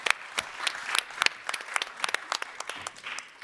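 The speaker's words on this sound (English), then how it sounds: "One more round of applause" Sparse, scattered claps from a conference audience, individual hand strikes distinct and irregular rather than a full ovation, fairly quiet.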